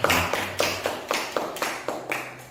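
A small group claps in a steady, even rhythm of about nine beats, close and moderately loud, with no voices over it.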